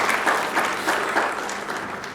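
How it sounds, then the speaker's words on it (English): Audience applause at a dental nursing graduation ceremony, a short burst of steady, fairly faint clapping from a seated crowd, heard alone. "We could clap for her."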